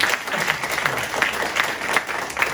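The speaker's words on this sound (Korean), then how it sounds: "박수 한번 주시면 통과하시겠습니다" Audience at a legislative forum on protecting local small businesses and traditional markets gives a round of applause, steady crowd clapping with a few louder individual claps standing out.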